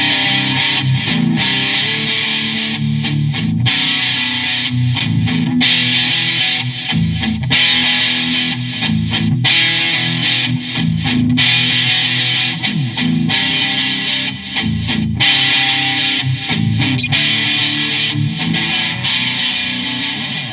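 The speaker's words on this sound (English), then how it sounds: "I'm going to demo that now for you and show you what it sounds like with distortion." A heavily distorted electric guitar plays chugging chords and riffs, loud and continuous, with no voices.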